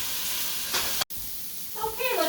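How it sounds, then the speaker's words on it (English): Pork tenderloin searing in a hot skillet gives a steady broadband sizzle, with a brief cut in the middle and a louder crackling flare near the end. "Get that sizzle, that's what you want to hear."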